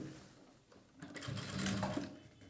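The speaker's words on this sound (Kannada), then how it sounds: "ನಂತರ ಸ್ಟಿಚ್ ಮಾಡಿ." A sewing machine stitches the lining of a boat-neck blouse, a steady mechanical whir that builds louder toward the middle and holds to the end, with no talking.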